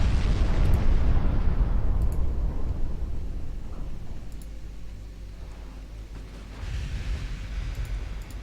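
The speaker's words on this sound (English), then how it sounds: "Got 1 torpedo hit." A torpedo strikes a warship in Ultimate Admiral Dreadnoughts, giving a loud, deep explosion that rumbles and slowly fades, with a second swell of rumble near the end. No voices.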